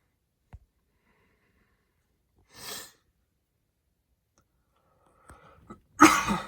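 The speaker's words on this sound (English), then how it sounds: "Sorry for the coughing again." A few scattered, isolated coughs separated by silence, the last one louder and harsher than the rest.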